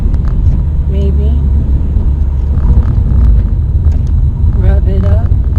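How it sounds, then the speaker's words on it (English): A car engine revving through a rev-match downshift into second on a street, a low steady rumble with brief blips in pitch, heard under a voice giving instructions. "Rev it up, clutch out. Okay? Gonna go to second, rev it up, clutch out."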